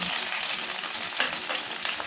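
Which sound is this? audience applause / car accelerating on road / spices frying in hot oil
spices frying in hot oil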